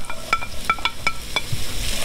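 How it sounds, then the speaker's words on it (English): Vegetables tumbling into a hot pot for braised short ribs, a steady sizzle broken by several sharp stirring clinks and scrapes, close and alone with no talk. "So I'm gonna go ahead and add all the vegetable in."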